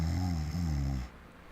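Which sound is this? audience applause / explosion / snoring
snoring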